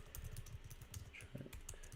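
Quiet keyboard typing on a computer, a quick run of soft key clicks that keeps an even, fast pace across two seconds, heard close with no talk.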